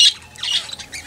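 A white pet finch begging for seed gives a quick burst of two or three sharp, close squawks within about a second, with no voices.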